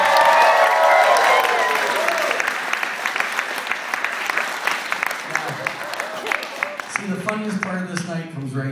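Audience applause fills a hypnosis show as volunteers take a bow, dense steady clapping with cheering that thins toward the end while a voice speaks over it.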